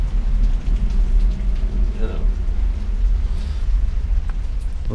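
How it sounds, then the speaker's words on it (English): Heavy rain in a downpour drumming on the roof of an indoor workshop, a dense steady low rumble of rainfall throughout, loud and continuous, with a voice speaking over it. "Got quite a downpour, a little bit of a rainstorm today."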